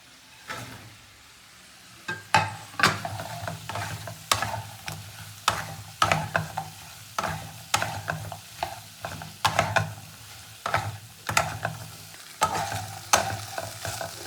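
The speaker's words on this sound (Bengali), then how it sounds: "সব উপকরণের সঙ্গে তুমি চিকেনটাকে খুব ভালো করে মিশিয়ে নিই" Fried chicken is tossed into a dry dragon chicken sauce with cornflour, a spatula scraping and clacking against the pan in repeated sharp strokes over a low sizzle.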